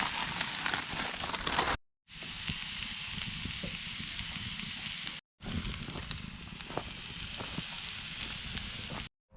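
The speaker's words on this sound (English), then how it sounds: "we got them sizzling on top with a nice fire" Loud, crackling sizzle of steaks on a grill over a campfire, broadband and hissy, broken by two short gaps of silence.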